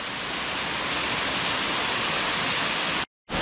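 After a week of rain, a waterfall at DeSoto State Park roars as a loud, dense, unbroken rush of falling water, cutting out briefly near the end before resuming.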